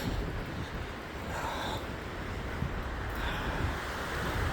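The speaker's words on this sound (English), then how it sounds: "Oh, that was a good wind gust." Strong wind gusts buffet a microphone on an exposed Colorado hiking ridge during a winter windstorm, a steady roaring rush with broadband rumble swelling and easing over a few seconds, with no voices.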